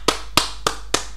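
Four sharp hand claps land in a quick, evenly spaced series, close and crisp against silence.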